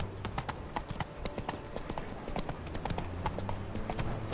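Geralt's horse Roach trots in The Witcher 3, a continuous clip-clop of hoofbeats in a quick steady rhythm, moderately close, with game ambience underneath.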